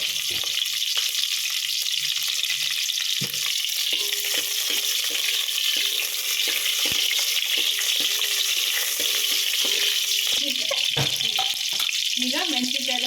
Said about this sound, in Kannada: ಈಗ ಮೆಣಸಿನ್ಕಾಯಿ ಎಲ್ಲ ಫ್ರೈ ಆಗಿದೆ.